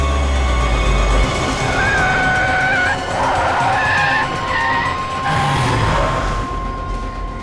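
A car skids loudly and close, with long tire squeals rising and wavering over a roaring engine for several seconds before it slows to a stop.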